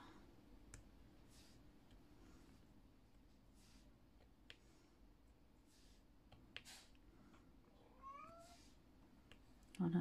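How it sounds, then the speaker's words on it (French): A house cat meows a few times near the end, rising short calls over a steady low hum and scattered light clicks, fairly faint and close, with no one talking. "ce que vous entendez, c'est le chat."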